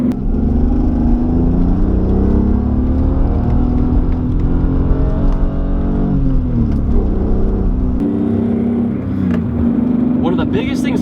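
A Megan Spec-RS on aftermarket coilovers climbs a winding canyon road, its engine a steady loud drone that rises and falls with shifting revs, with road and tire noise underneath throughout.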